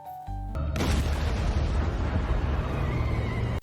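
A sudden loud boom of a bomb exploding inside a cinema bursts in after a brief quiet, then a sustained roaring rumble fills the rest of the clip, heavy and close.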